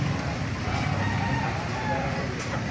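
Hens and roosters at a poultry market in Baliuag, clucking and crowing continuously amid a busy, noisy crowd with people talking nearby.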